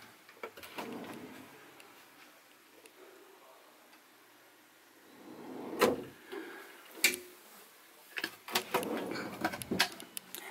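A soft-close door inside a Knaus Live Wave 650MF motorhome is tried out, giving faint soft clicks and light knocks at intervals, with someone talking quietly around them.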